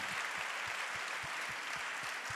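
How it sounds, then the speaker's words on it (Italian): An audience applauds Paola and her film at an Italian stage show with Daniele Silvestri, a steady, even wash of clapping from a mid-sized crowd with low thumps pulsing beneath it. "Facciamo un applauso a Paola e al suo meraviglioso film."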